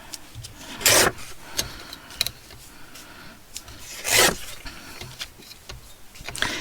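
Paper being trimmed for ephemera crafting, two loud rasping cutting strokes separated by quieter rubbing and handling noises, close and otherwise without voices.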